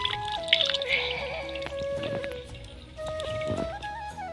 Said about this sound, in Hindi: तो अब जो है ना ये दवाई छानी जा रही है।